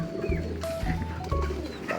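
Pigeons coo softly in a loft, several low cooing calls close by over a busy background of rustling and faint chirps.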